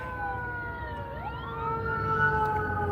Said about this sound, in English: It's the ambulance coming, y'all.